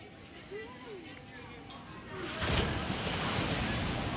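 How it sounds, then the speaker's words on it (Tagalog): Sea waves at a Philippine fishport, a steady wash of surf with wind buffeting the microphone that swells louder midway as a breaker rolls in, with faint distant voices underneath. "Nalaki na naman ang alon."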